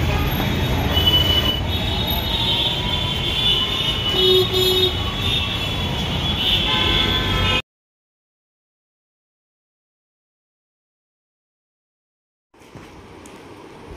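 A train rolls past at Bidhannagar railway station, loud and near, with steady wheel squeal and rumble for about seven seconds, then sudden silence before the rail noise returns faintly at the end.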